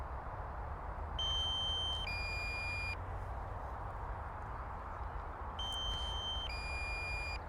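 Two pairs of electronic beeps from a DJI Mini 3 Pro drone controller, each a higher tone stepping down to a lower one, sound several seconds apart over a steady, hissing outdoor background by a London roundabout.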